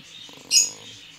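Caged birds in a pet shop, such as parakeets, canaries and cockatiels, give one short, bright chirp near the middle, with faint pattering behind it.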